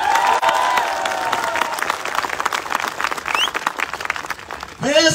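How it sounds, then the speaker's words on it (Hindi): Audience applause at a Royal Diamond celebration motivational event, a dense sustained wash of clapping and cheering from a large crowd that fades briefly before a voice speaks at the end. "एक जोरदार तालियां।"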